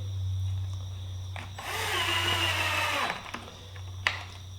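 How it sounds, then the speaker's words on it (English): A power drill drives pocket screws into a wooden frame in a workshop, whirring in one clear burst of about a second and a half over a steady low electrical hum, followed by a few light knocks. "connect this frame together with the pocket screws."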